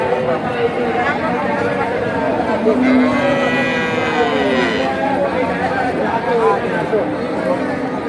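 Cattle low and moo amid a busy outdoor crowd at a rain-flooded cattle market in Sharatnagar, with steady chatter and babble from many people throughout.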